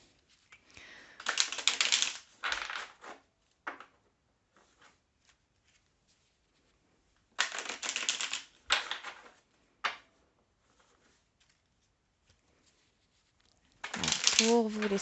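Tarot cards shuffled by hand: three separate bursts of papery riffling and flicking, with a few soft single taps between them and long quiet gaps. A voice starts speaking at the very end.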